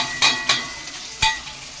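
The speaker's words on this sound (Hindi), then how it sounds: "यहाँ पर ऑयल हो गया गरम, तो डाल देते हैं प्याज।" Onions dropped into hot oil in a home kitchen, a steady close sizzle broken by three sharp clatters of a spoon or pan, no talking.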